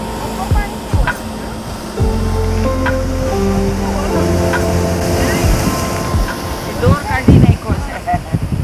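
Sea waves break and wash on the shore at Thangassery lighthouse beach near Ashtamudi, a broad rushing roar with swells and splashes, while people talk over it and wind buffets the microphone.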